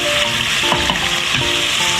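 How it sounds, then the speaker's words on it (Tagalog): Garlic and ginger fry in a pan with a steady, close sizzle that fills the moment, broken by a few soft stirring knocks and scrapes, with no talking. "Habang nagluluto yung garlic and ginger"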